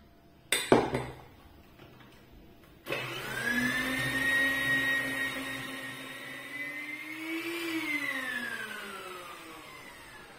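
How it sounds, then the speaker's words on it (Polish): An electric hand mixer running on low speed beats flour into a thick nut babka batter. After a couple of brief knocks, a steady motor whine starts and holds, rising slightly in pitch before easing off, close and fairly loud. "Teraz dodajemy mąkę porcjami i miksujemy już na niskich obrotach."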